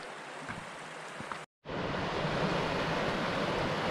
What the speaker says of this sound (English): That's not the fall we're hiking to, but first little set of falls along the creek.